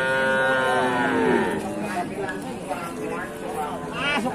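Cattle moo loudly and repeatedly at a livestock market, long drawn-out calls close by, with other animal noise and people talking nearby.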